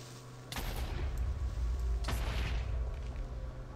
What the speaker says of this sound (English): Wow, that explosion did, like, nothing to me.